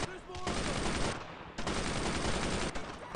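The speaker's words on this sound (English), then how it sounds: "Just empty bullets into the field!" Dense, sustained automatic gunfire from the World War II shooter Brothers in Arms keeps up a loud, continuous rattle throughout, broken by a couple of brief dips.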